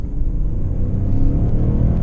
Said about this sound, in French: Le moteur qui grimpe dans les tours sans grande difficulté